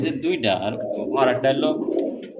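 A pure pair of pigeons coo close and fairly loud, rolling, swelling calls repeating over a few seconds, with a voice talking in the background.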